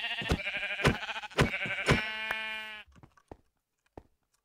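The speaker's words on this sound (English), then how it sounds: "That's for another sheep." Several loud, close sheep bleats from the video game Minecraft ring out in quick succession, followed by a few faint scattered clicks and taps before silence.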